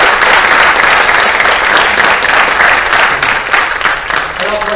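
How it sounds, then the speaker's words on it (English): An audience gives a round of applause for the speakers at a town square panel event, a dense, sustained clapping that stays loud before tapering slightly near the end. "let's give another round of applause for the speakers"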